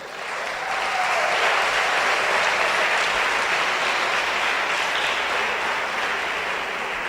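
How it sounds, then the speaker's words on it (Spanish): A church congregation applauding the Lord during a service: dense, sustained clapping from many hands that swells within the first second and holds steady and loud, fading slightly toward the end. "Démosle un aplauso al Señor."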